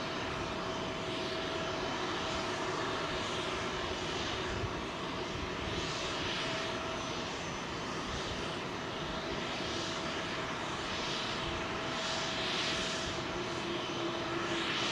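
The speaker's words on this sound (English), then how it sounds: "WestJet, final aircraft to go out." A WestJet airliner departs London Heathrow on runway 27L, its engines a loud, steady jet roar that stays close and constant from start to finish.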